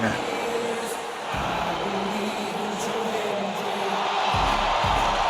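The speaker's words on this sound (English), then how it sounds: "The clapping from the crowd." A game crowd in WWE 2K26 claps and cheers through Joe Hendry's wrestler entrance, a dense continuous arena roar with scattered whoops rising and falling under it.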